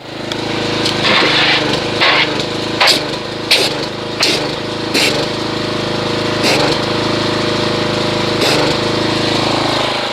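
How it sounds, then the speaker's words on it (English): A pressure washer motor hums steadily while carnauba wash soap is foamed onto a car, with sharp intermittent bursts of spray breaking through the constant drone. "I'm going to get the pressure washer and let's foam this and see how much foamage we get"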